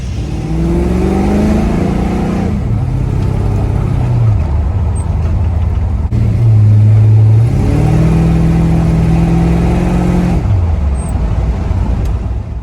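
A small block Chevy V8, its distributor freshly installed, pulls away from idle and drives off, engine revving up and down in steady waves close by, with no talking.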